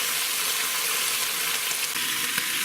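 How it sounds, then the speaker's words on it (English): Beef rouladen browning in an Instant Pot, a steady, close sizzling hiss that fills the whole stretch without pause or talk. "we're just browning it"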